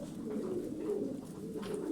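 Turkish tumbler pigeons of the dumanlı type coo softly and continuously in a loft, a low, close, gently rolling murmur with no talking.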